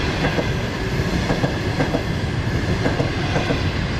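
A train rolling along the rails in China, with a steady rumble and faint rhythmic clickety-clack of the wheels over the joints. It is loud and continuous, heard from inside or close by, with no voices.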